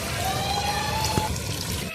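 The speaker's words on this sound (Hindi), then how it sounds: "अभी हम इसमें पानी शामिल करेंगे।" Water poured into a pot of degi-style beef aloo gosht curry, a steady continuous stream of liquid splashing for about two seconds at moderate volume.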